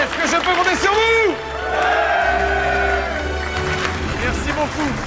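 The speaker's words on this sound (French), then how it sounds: "Vous tous, j'aimerais que vous applaudissiez ces 20 pros du bâtiment." A crowd roars its approval for twenty building-trade workers, loud whoops and shouted cheers rising and falling in a continuous, close wall of voices.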